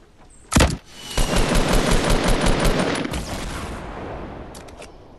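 Fortnite gunfire during a battle royale fight, a sharp single shot followed by a dense, sustained rattle of rapid automatic fire that gradually tapers off, loud and close.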